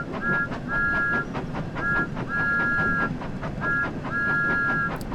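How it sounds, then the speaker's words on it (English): Thomas the Tank Engine's steam whistle in Train Sim World 5 blows in a run of short and longer loud toots over steady rhythmic clickety-clack of the moving engine, with no talk. "Space to blow the whistle."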